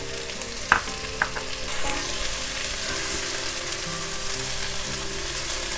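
Chopped tomatoes tipped into a hot pan for moringa dal, a few sharp clacks as they land, then a steady close sizzle with stirring underneath.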